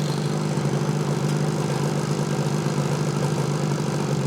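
A 1968 Yamaha AS1C motorcycle engine idles at about 1500 rpm, a steady, even, close buzzing drone that holds constant throughout with no voices.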